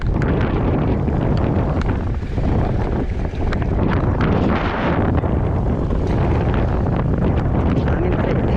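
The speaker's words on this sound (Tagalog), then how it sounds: "Hangin pa rin mga amigo. Ang malakasan." Strong wind on the West Philippine Sea roars steadily across the microphone, a constant heavy rush with gusty buffeting throughout and no voices.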